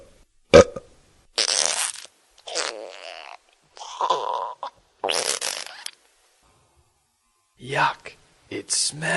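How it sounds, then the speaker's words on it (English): Cartoon-style burping and farting effects from a girl in a children's story, several short bursts of gassy noise separated by silent gaps, with spoken narration between them. "she started burping and farting at the same time"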